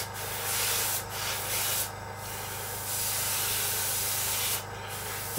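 Airbrush spraying a heavy wet coat of matt varnish onto a Seafire scale model, a close, steady hiss in several bursts separated by brief pauses.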